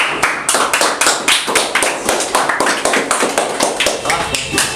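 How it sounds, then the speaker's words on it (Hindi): A class of coaching students claps together, a dense, loud burst of rapid overlapping hand claps sustained for a few seconds. "ताली हो जाए।"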